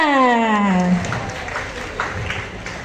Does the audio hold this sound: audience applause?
yes